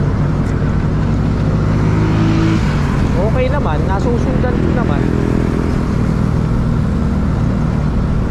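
Road traffic heard from inside a moving vehicle on the route from Siruma to Daet, Camarines Norte, a constant engine and road rumble running beneath someone talking.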